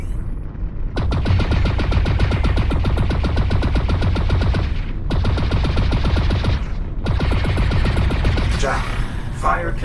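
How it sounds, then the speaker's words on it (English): A weapon firing ionized bolts in Lone Echo 2 rattles out rapid, loud, evenly spaced shots in two long sustained bursts separated by a brief pause, with a voice speaking at the end. "The ionized bolts of your armament are surprisingly slow"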